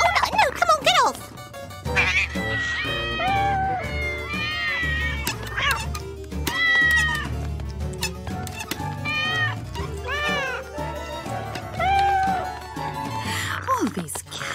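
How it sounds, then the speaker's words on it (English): Cartoon cats meow repeatedly in a busy animated scene, rising and falling cries scattered across the stretch over music and effects, with character voices heard around them. "All these cats."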